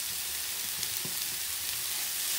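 Ground mince, about 250 grams broken up in a pan, fries with a steady, close hiss, and a couple of faint scrapes and knocks sound under the sizzle.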